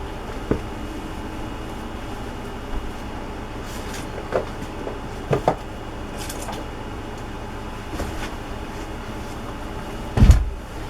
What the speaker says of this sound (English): Oh, I just knocked my wastebasket over.